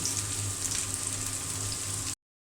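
Chopped onion, green chili and carrot fry together in a pan for noodles, giving a steady, moderately faint sizzle with a faint low hum beneath, ending abruptly.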